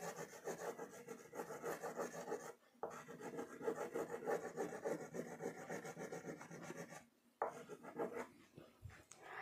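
A crayon scrubs across paper in steady, close back-and-forth strokes, with two brief pauses between the runs of colouring.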